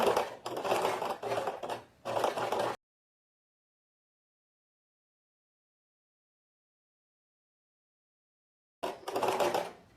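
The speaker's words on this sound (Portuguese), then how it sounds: "aqui vai ser um pesponto bem na beiradinha" A sewing machine topstitching close to the edge of tailored trouser fabric runs in short rapid bursts at the start, falls silent for several seconds, then starts whirring again at the end, close and clear.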